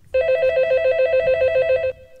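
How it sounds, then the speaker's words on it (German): In the game Phantasmagoria 2, a telephone gives one continuous electronic ring, a rapid trilling burst that lasts nearly two seconds, loud and close, then cuts off abruptly. "Mein Telefon klingelt."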